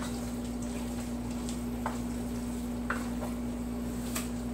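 Wild game chili with tomatoes simmering in a pot: a steady low bubbling and sizzle with a constant hum underneath and a few faint ticks, no speech.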